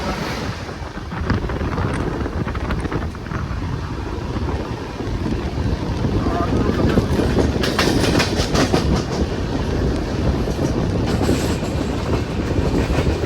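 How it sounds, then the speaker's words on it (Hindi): A moving passenger train rounds a curve, with a loud continuous rumble and rattling of the carriage, steady clatter and some wind noise throughout. "भाई हमारा ट्रेन कैसा कर्व हो रहा है अभी"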